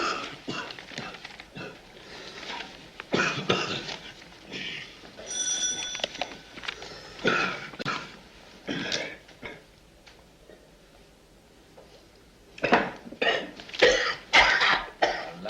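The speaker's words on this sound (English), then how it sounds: "He's been coughing like that all day." A man coughs repeatedly in scattered harsh bursts with throat clearing, fairly faint and indoors, separated by quiet gaps, with a brief ringing tone in the middle.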